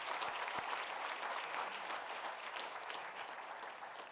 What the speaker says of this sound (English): A round of applause for our engagement sponsors.